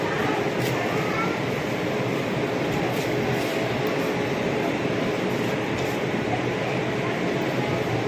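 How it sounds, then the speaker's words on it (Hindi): Passenger train rolling into an Indian railway station, a steady loud rumble of wheels and carriage noise filling the whole stretch, with people talking over it. "आयुष है स्टेशन में आ गया हीरो"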